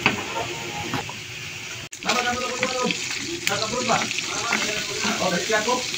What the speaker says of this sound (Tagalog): yung piniprito siya ng walang mantika para lumabas yung sariling mantika niya